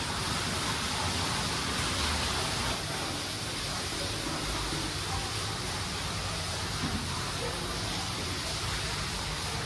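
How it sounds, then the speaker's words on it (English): A massive water wheel powering a slate quarry museum, heard as a loud, constant wash of rushing, splashing water that fills the space without pause and with no talk. "in here we have the massive water wheel which powers the whole of the quarry."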